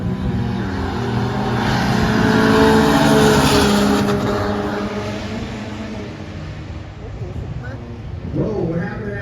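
Honda Civic AWD drag racing a pickup truck at an NDRC Philippines drag event: loud, rising engine roars build and then fade as the cars run, with a fresh burst of engine noise at the end and voices in the background.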